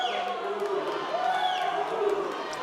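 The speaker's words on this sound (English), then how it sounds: "His Franklin teammates cheering him on." Franklin teammates cheer and whoop for a breaststroke swimmer during a high school swimming championship at an indoor pool, with a continuous crowd roar and bright shouts while a commentator talks over it.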